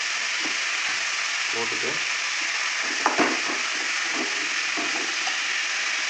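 Vegetables for Pongal sambar, among them brinjal, potato, carrot, sweet potato and broad beans, sauté in a pan with a loud continuous sizzle and scraping stirs. A brief spoken word is heard.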